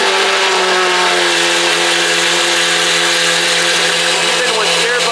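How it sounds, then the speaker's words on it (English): A Lamborghini Aventador SVJ fitted with a Tri-Aero exhaust revs very loudly close by, giving a continuous harsh, dense roar with a steady pitch that fills the whole stretch. "This SVJ sounds ridiculous, bro. Tri-Aero does not let you down."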